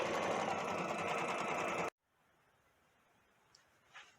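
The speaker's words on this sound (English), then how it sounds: "The machine says that this should take 9 minutes to sew out." An embroidery sewing machine stitches a sugar skull quilt block with a loud, steady, fast mechanical whir that stops abruptly halfway through, leaving near silence broken by a couple of faint clicks.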